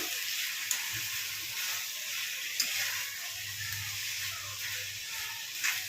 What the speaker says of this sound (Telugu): మంచిగా కలుపుకొని ఒక 3-4 నిమిషాలు అయితే మంచిగా మగ్గనివ్వండి ములక్కాయలు టమాటాలు అనేది